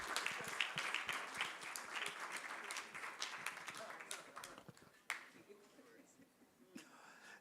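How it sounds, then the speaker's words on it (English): Applause from a conference audience at the Africa Construction Law Conference 2024, a dense, ongoing patter of clapping mixed with faint murmurs that thins out toward the end. "Please, let's not stop clapping till all of them come to the top."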